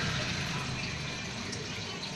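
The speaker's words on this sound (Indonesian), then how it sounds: "Kita harus siram air sebanyak mungkin." A continuous rush of water poured out steadily onto a floor being prepared for tiling, close and fairly loud, lasting the whole brief moment with no voices.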